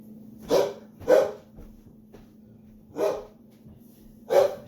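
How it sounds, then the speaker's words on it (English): A guard dog barks in four loud, separate bursts spaced about a second or two apart, close by, with a low steady hum underneath and no talking. "Just being a guard dog."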